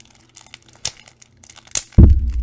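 Pokemon Ultra Premium Collection packaging is torn open by hand. Scattered crinkling and two sharp rips build to a louder final tearing crunch at close range.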